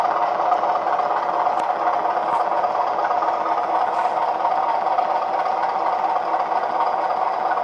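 A Bachmann Kernow Class 205 Thumper model train unit gives out its engine sound, a steady close rumbling drone with faint rattle that holds level throughout, with no talking.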